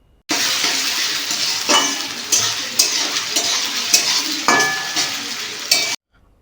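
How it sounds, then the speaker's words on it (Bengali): Potatoes and carrots fry in a pan while a utensil stirs them, with a steady sizzle broken by repeated scraping strokes and light clinks, loud and close with no talking. "দিয়ে আলু এবং গাজরগুলিকে ভালোভাবে প্রথমে ভেজে নিতে হবে"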